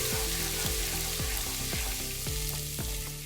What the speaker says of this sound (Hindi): अदरक लहसुन का पेस्ट शामिल करने के बाद जो है वो हम भून लेंगे।